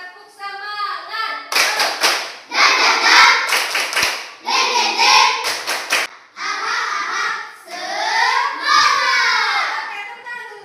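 Children in a primary-school religion class perform the 'tepuk semangat' clapping chant, bursts of rhythmic hand claps in set patterns alternating with children's voices chanting together in a lively, close classroom.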